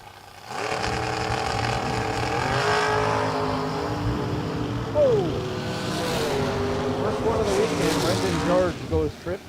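A Mustang drag car launches at a drag strip, a loud sustained engine roar rising in pitch as it accelerates away, with an announcer talking over it.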